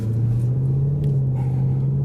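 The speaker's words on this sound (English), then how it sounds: "It does have a good different sound to my car though. Even though it's the same engine, it's a different rumble." Deep, steady idle rumble from the engine of a Range Rover SVR tuned by Urban Automotive, heard close from inside the cabin, constant and unbroken with no voices over it.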